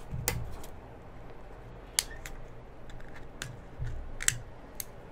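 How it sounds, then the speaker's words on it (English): Pliers or cutters snip through the wires on a battery pack connector: several sharp, separate clicks and snips at close range over a quiet room, with no talking. "this one also has another connection to the pack. So we're going to go ahead and cut these off as well"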